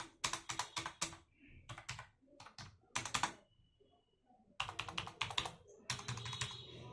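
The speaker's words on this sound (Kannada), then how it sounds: "ಕೀಬೋರ್ಡ್ದು ಸೌಂಡ್ ನೋಡಿ" Bursts of typing on a Dell wireless keyboard, rapid clattering keystrokes in several runs separated by short pauses, close and clear with no talking.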